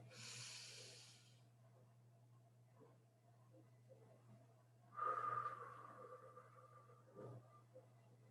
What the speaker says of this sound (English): Breathe in through your nose.